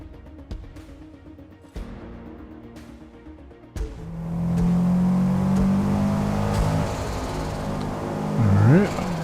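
A race car engine in Forza Motorsport played on a wheel: a few soft thumps, then the engine rises into a loud, sustained drone that climbs in pitch and revs near the end.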